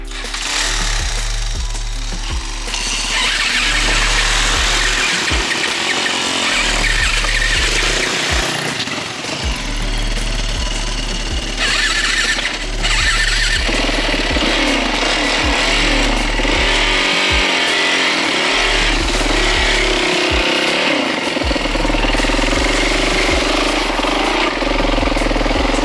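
Motorcycles set off along a river in the mountains of the Chandolaz ridge, with loud, steady engine roar and revving that rises and falls throughout, close to the listener and with no talk over it.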